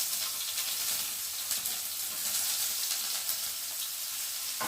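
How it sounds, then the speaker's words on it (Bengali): Onion frying in oil with a steady, dense sizzle and hiss that holds even throughout, close up with no talk. "তো এবার পেঁয়াজটা একটু ভালো করে ভেজে নেব।"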